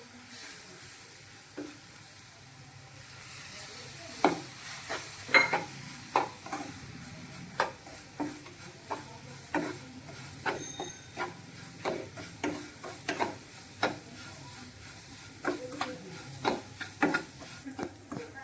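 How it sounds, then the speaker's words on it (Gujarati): A spoon stirs a semolina barfi mixture as spoonfuls of milk go in, producing repeated soft scraping strokes in a steady rhythm over a faint hiss, close and quiet, with no speech. "હવે તેમાં આપણે થોડુંક દૂધ ઉમેરશું, 3 થી 4 ચમચી જેટલું થોડું થોડું ઉમેરતા જશું અને હલાવતા રહીશું આવી રીતે"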